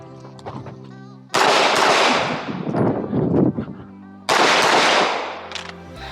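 Two loud pistol gunshots at an outdoor shooting practice, about three seconds apart, each a sharp blast with a long ringing decay, between stretches of quieter talk-level background.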